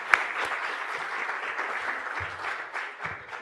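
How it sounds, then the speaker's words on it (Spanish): An audience at a sports forum in Panama applauds, a dense steady patter of many hands clapping at moderate loudness for a few seconds, with a few louder individual claps and no speech. "le doy un aplauso"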